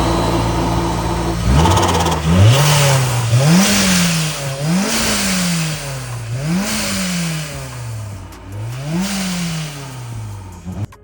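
Turbocharged Honda S2000 engine revving loudly in repeated bursts, about six rises and falls in pitch, with the sharp hiss of a blow-off valve venting between revs, close and strong with no talk.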